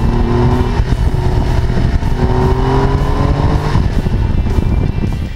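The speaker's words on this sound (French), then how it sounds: "Un flat 6 386 mélodieux et rageur, une auto de puriste" Porsche 911 type 964 with its air-cooled 3.6-litre flat-six engine accelerating on a country road near the abbey of Vaux de Cernay, a steady loud engine note climbing in pitch throughout, with no voices.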